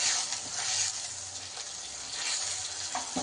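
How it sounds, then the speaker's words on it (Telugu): Tomato paste being fried in a pan for chole masala, giving a bright, continuous sizzle with gentle stirring that swells and eases over a few seconds, close up and with no talking. "ఇప్పుడు టమాటా పేస్ట్ వేసుకుందాము. ఇది కూడా బాగా వేయించుకోవాలండి."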